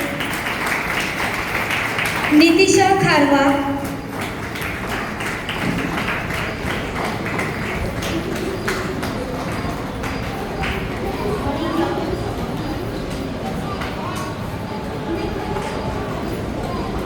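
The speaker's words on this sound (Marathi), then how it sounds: "कारण टाळ्या शेवटपर्यंत थांबल्या नाही पाहिजे" An audience claps steadily through a vote of thanks at a school event. The applause is brief, sharp and strongest early on, then continues softer under someone speaking names into a microphone.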